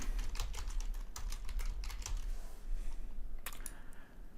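Rapid clicking keystrokes on a computer keyboard, close and steady, easing off toward the end with a final few taps.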